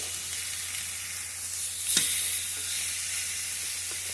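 Pork chops sizzle steadily in a hot pan as they are flipped for oven-barbecued chops, with a brief sharper crackle and hiss partway through before the even frying noise settles back.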